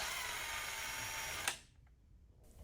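A steady, loud power drill whirs for about a second and a half while drilling holes to mount window shades, then cuts off abruptly, leaving near silence with faint rustles.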